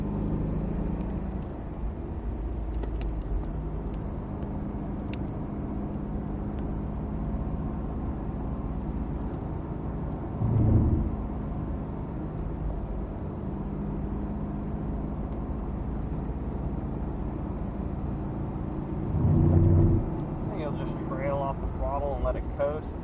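A Cadillac CTS-V Coupe coasting off throttle at Circuit of the Americas: a steady low engine and road drone lasting the whole stretch, with two brief louder swells, under ongoing talk.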